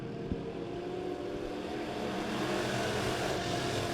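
B-Class Midwest Modified race cars at Springfield Raceway roar loudly and steadily together as a heat race gets underway, a dense, continuous engine drone with no talk.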